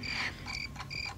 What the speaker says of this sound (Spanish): ¿Por qué cantan los grillos?